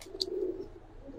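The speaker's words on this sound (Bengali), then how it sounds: "এগুলা ভাই আমাদের এলাকার কবুতর" A racing pigeon at a pigeon farm gives a single soft, low coo, close and brief, with a faint chirp above it.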